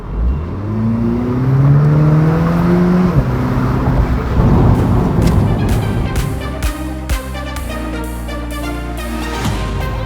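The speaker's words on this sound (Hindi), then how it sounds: "अच्छी खबर यह है कि इस इंजन की मधुर आवाज़ आप हार्ड टॉप में भी सुन सकते हैं।" A 2021 Mini Cooper S convertible's turbo petrol engine revs loudly and climbs through the gears with a sharp shift, then settles into a throaty idle broken by pops and crackles, close and continuous.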